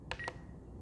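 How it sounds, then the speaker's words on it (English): Two short electronic beeps from an RC radio transmitter's timer warning, sounding close and bright in quick succession before a faint steady hum. "every 1 minute past it beeps"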